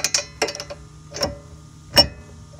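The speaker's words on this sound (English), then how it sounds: "Actually just using our ratchet." A ratchet wrench loosens bolts on a car, giving short bursts of sharp metallic clicks separated by pauses, close and fairly loud with no talking.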